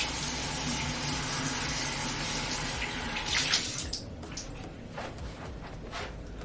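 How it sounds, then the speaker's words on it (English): Water runs from a sink tap as hair is wetted, a close, steady splashing stream that stops partway through, leaving faint drips and small handling sounds. "I'm gonna go ahead and add some water. I'm gonna just, with the sink"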